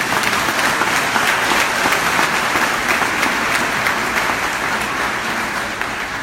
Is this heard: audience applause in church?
yes